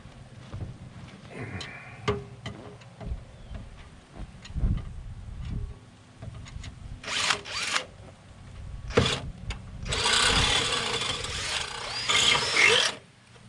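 A drill bores through a metal beach buggy door, with intermittent rasping and grinding bursts, knocks and handling noise, growing into a loud sustained grind near the end.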